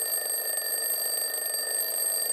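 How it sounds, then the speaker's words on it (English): An alarm clock rings continuously, a steady high-pitched electronic tone held without a break, fairly loud and heard alone with no voices. "The alarm clock, do you hear it?"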